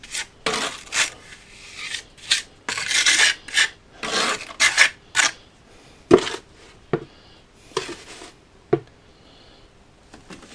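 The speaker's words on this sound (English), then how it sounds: "it's only like a bag rubbed finish that just smooths the wall out" A bag is rubbed over freshly filled patches on a garage wall, producing a series of close, dry scratchy rasps in short irregular strokes with quiet gaps between.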